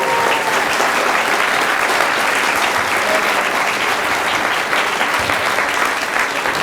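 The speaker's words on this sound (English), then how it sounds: "Let's give a round of applause to my assistants." A crowd at a University Book Store author event in Seattle gives a round of applause for the author's assistants, a dense, even wash of clapping that holds steady at full strength from start to finish.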